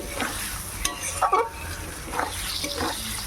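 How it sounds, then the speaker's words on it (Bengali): Pointed gourd (potol) frying in a pan with oil for a vegetarian potol paneer dish, a steady soft sizzle broken by stirring scrapes and a few louder clatters near the middle. "একটু হালকা হালকা লাল করে ভাজাটা করব"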